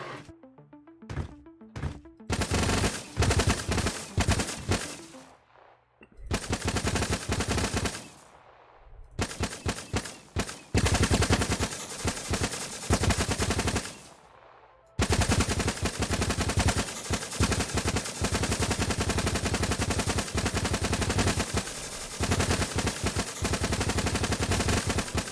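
Pistol gunfire in Project Onyx, with loud bursts of rapid shots separated by short silences early on, then sustained heavy firing that runs without break to the end.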